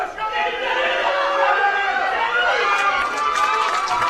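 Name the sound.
crowd cheering at a powerlifting championship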